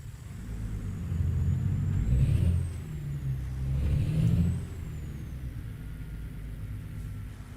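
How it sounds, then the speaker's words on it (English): Truck air brake hiss from a handbrake release in American Truck Simulator, heard alongside a steady low diesel engine rumble with two swelling bursts, loud and close, no talk. "Right, handbrake off."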